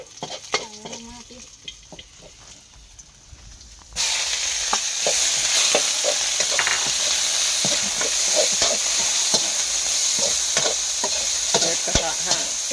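Pork is stir-fried with Chinese kale in a wok. The clip starts quiet with a few clicks, then pork hits the hot pan and a loud, steady sizzle bursts in. Sharp scraping strokes from the spatula recur throughout.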